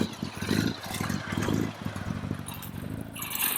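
1964 Triumph TR6R motorcycle idling and rolling forward up a slight incline as the clutch drags and grinds, a rough mid-pitched engine rumble with uneven surges and a brief mechanical scraping, close by with no voices.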